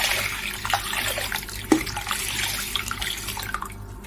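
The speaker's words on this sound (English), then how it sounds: "Add water to slightly cover them" Water pours into a pot of lentils, a steady close splashing rush with a brief clink partway through.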